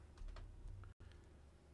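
Typing on a Clevatura touchpad keyboard: a quick run of soft, close keystrokes with a brief gap of silence partway through.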